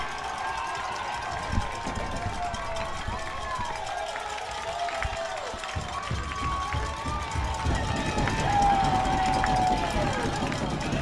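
A baseball crowd in Yakima roars and cheers after a home run, a sustained wash of distant voices and noise that swells toward the end, with a commentator talking over it.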